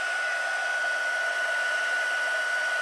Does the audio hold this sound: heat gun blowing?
yes